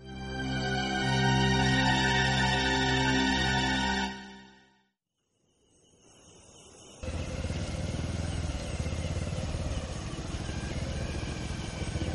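A motorcycle engine idles loudly with steady tones, cuts out briefly into near silence, then a rougher engine-like rumble resumes.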